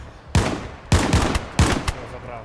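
Gunfire in the video game DayZ: three loud bursts of automatic shots, each a quick cluster of cracks, separated by short pauses, with no speech over them.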